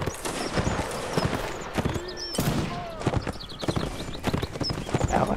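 Horse hooves in Mount and Blade Warband clatter at a galloping rhythm, close and steady, mixed with scattered game effects and battle noise throughout.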